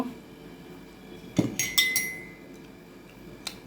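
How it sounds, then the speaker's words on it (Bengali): A spoon clinks against a glass or bowl while cocoa powder is mixed with milk, a few quick bright taps in a short burst, then one faint tap later, close and quiet. "কোকো পাউডারটাকে একটু দুধ দিয়ে হালকা করে আমি গুলে নিব"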